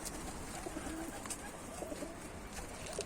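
Tumbler pigeons cooing faintly at a distance, a few soft repeated coos set against steady background noise.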